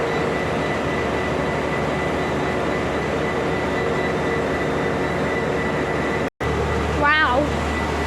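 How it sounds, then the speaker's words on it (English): A train's motor idles at Belfast Grand Central station, a loud steady rumble with a constant hum that cuts out briefly near the end. A short rising whine follows while a voice speaks faintly. "let's listen to this motor"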